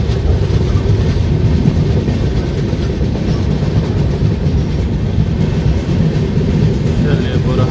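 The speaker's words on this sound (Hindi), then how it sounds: "बाकी ट्रेन हमारी पहुंच गई है महाराष्ट्र के बुरहानपुर स्टेशन पर" The Jhelum Express rolls along the rails into Burhanpur station, a loud, steady rumble with rattling wheels and clattering carriages heard from on board, continuous for the whole stretch.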